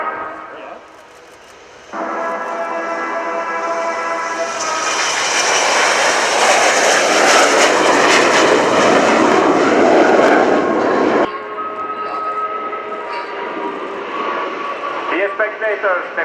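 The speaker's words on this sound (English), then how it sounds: "That concludes today's demonstration of the Army Air Corps Apache helicopters" Army Air Corps Apache helicopters at the RIAT airshow at Fairford, a loud sustained roar of engines and rotors swelling and then fading back, with a public-address announcer talking over the noise throughout.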